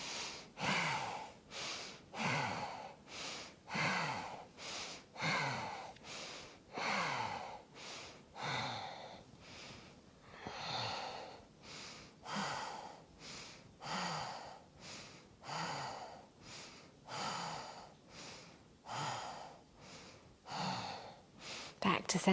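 Slow, deep breaths are held through a yoga pose, with audible inhales and exhales repeating in a steady rhythm close to the microphone, alone with no talk.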